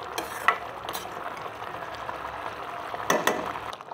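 Palak paneer with fried paneer simmers in spices on low heat, a soft continuous sizzle and bubble with a few louder stirring clinks.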